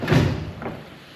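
A skoolie bus door unlatched and swung open, a single close dull thud with a rattle at the start, then a brief softer knock that fades into quiet.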